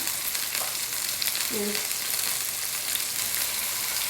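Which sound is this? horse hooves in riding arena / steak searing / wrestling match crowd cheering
steak searing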